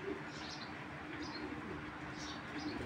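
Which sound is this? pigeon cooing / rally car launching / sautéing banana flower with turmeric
pigeon cooing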